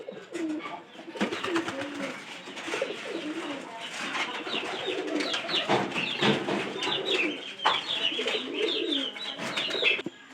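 Pigeons coo steadily in a cage, a layered run of soft throaty calls with a few chirps mixed in, close and continuous for the whole stretch with no talk over them.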